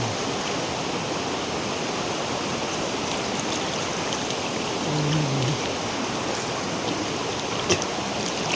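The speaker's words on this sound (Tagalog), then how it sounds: "Malamig ang tubig sa Tugnaw River." Cold water of the Tugnaw River in Cabadbaran City, Agusan del Norte, flows in a steady, loud, close rushing wash with no voices, unbroken throughout.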